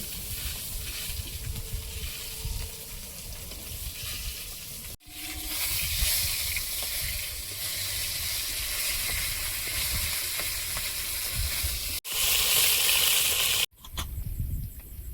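Fish frying in hot oil gives a loud, steady crackling sizzle throughout, broken by a few short cuts, with a sharper hissing burst near the end.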